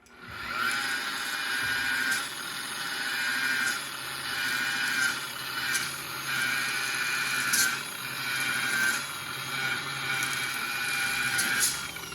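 An electric polisher set to about 2,000 rpm spins while a spur cleans dust and old wax out of a used polishing pad on a fiberglass boat, a steady whirring drone with repeated scraping ticks, close up and without talk.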